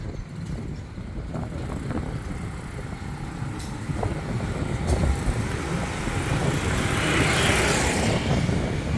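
Motorbikes passing along a small Bangkok neighborhood street, a continuous low engine and traffic rumble that swells louder toward the end as a bike nears, heard from the roadside with no talking.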